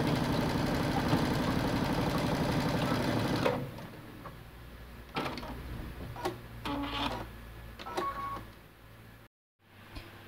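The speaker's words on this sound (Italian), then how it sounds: "apro in questo modo i tessuti e vado a fare una cucitura con il punto dritto" Sewing machine running a straight stitch through bag fabric, a steady loud mechanical whir for a few seconds, then stopping; afterward quieter handling clicks and rustles follow, with a short silent gap near the end.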